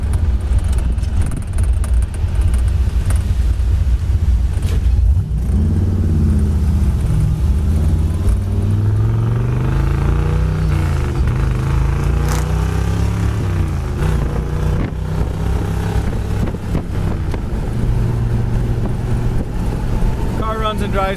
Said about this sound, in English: Runs and drives fantastic, 65 mile an hour, just perfectly straight down the road, shifts smooth, doesn't miss a beat.